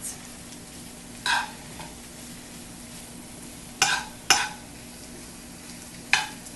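Spinach wilting over high heat in a pan gives a faint steady sizzle, broken by a few sharp utensil clacks and scrapes spaced several seconds apart.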